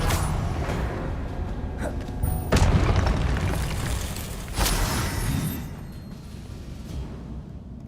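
Spell blasts in Hogwarts Legacy: several booming impacts, the two loudest landing near the middle and later, over a dense clattering game soundscape, with no talk over them.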